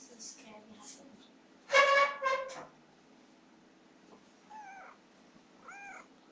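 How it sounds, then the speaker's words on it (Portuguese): A pet cat meows indoors while a game is being played. One louder, drawn-out meow is followed by a second, then two faint short mews come later against a quiet background hum. "se vocês tiverem uns miau aí, é meu gato, tá?"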